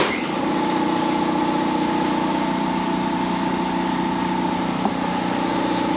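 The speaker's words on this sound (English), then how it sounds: "Just wait for the compressor to turn off." An air compressor in a garage runs steadily with a constant droning motor hum and mechanical whine, loud and unbroken throughout with no speech.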